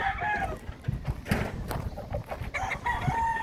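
Chickens cluck and call over a busy poultry farmyard background, with a rooster-like crow mixed in among several nearby birds whose water has run out.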